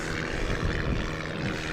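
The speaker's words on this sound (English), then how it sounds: "I can't hear you because of the plane. Okay. I'll wait till the plane goes." A propeller airplane roars steadily and loudly overhead near Wellington airport, a continuous broadband engine drone with no voices.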